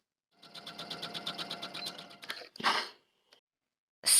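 A sewing machine runs a steady burst of rapid stitching along the shoulder seams of a bell-sleeve crop top at a 5/8 inch seam allowance, then stops with a few short clicks and a brief mechanical clatter.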